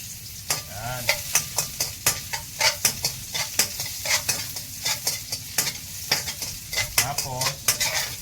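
Garlic sautéing in a frying pan as the base for a ginisang ampalaya dish, with steady sizzling broken by rhythmic scraping stirs of a utensil against the pan, close and clear.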